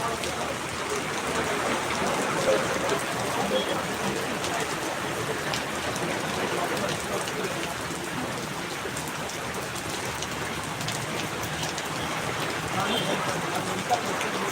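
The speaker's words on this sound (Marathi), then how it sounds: "जोरात पाऊस पडत आहे" Heavy rain falls hard and steadily, a dense, close hiss of drops on surfaces that does not let up, with faint voices occasionally underneath.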